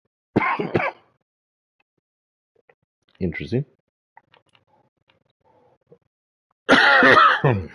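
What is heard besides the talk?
coughing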